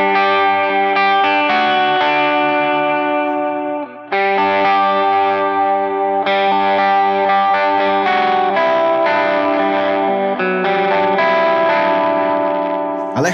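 Electric guitar through a Line 6 POD Go preset, slightly distorted with chorus and echo, plays ringing sustained chords and arpeggios for over ten seconds, close and full with no talking.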